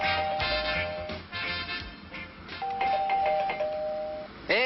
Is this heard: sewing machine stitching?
no